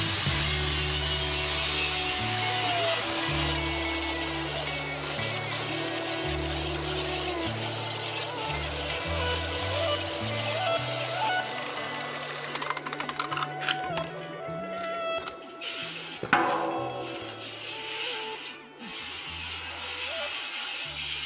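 A burr is worked off the edge of a steel oil drum with a tool, scraping and grinding bursts standing out over steady background music, growing rougher and more irregular in the later half.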